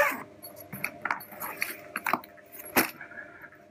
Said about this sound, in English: Opening up is pretty easy. There's a zip inside.